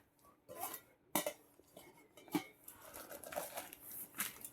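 A new steel dinner bowl set being unpacked and handled, with light, close metallic clinks and taps scattered irregularly among soft rustling and packaging crinkles, fairly quiet overall.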